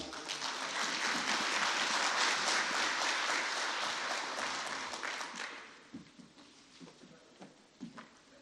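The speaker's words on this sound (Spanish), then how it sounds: "Brindémosle un fuerte aplauso." An audience applauds at a presentation, a loud, dense burst of clapping that holds for several seconds, then thins into scattered, fading individual claps.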